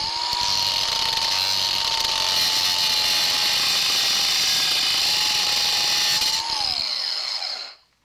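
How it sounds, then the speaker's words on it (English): An angle grinder cutting clearance into a Mercruiser 120 hp stern drive on a 1967 Starcraft Holiday boat, with a loud, steady high-pitched whine held close up for several seconds before spinning down and stopping. "I'm going to have to take my grinder here and create a little clearance so I can get those pushed clear by"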